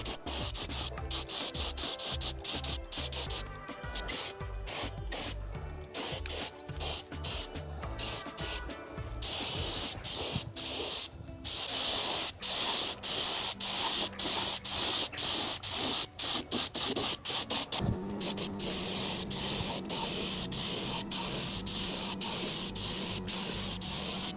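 Spray paint being applied in light, building coats to degreased BMW R100 engine parts, a steady close hiss in repeated bursts with short gaps, ending in longer continuous passes.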